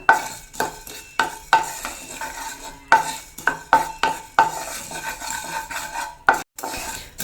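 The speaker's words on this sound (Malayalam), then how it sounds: "മല്ലി ഇതുപോലെ ലോ ഫ്ലെയിമിൽ തന്നെ ഒന്ന് മുരിച്ചെടുക്കാം" Coriander seeds are roasted in a pan over a low flame, stirred with a utensil in repeated scraping strokes with dry rattling and a faint sizzle, plus several distinct metallic clinks against the pan.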